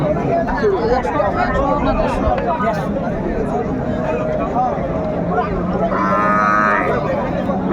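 Cattle lowing with calves at a busy village cattle market (haat), moos rising over a constant crowd hubbub and chatter, with people talking nearby throughout.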